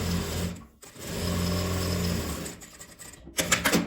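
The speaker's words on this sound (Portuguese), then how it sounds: "Vou passar um pesponto aqui na parte de cima." A sewing machine topstitches fabric for a multi-pocket cosmetic bag, its steady close hum running continuously, pausing briefly, then resuming in quicker bursts.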